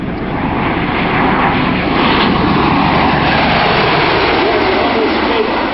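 An MV-22 Osprey tiltrotor aircraft flies by at the 2009 Indianapolis air show, a loud, steady broadband roar of rotors and engines that swells slightly mid-pass and stays strong throughout, with crowd noise in the background.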